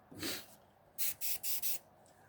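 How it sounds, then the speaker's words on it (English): Spray paint hisses onto paper in one longer burst, then four short quick bursts in a row, close up and fairly quiet. "I'm spraying on paper"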